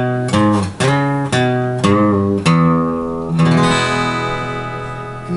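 A guitar plays the closing lick of a country song: about five picked notes with bends and releases, ending on a sustained, ringing note, clear and close, with no voice.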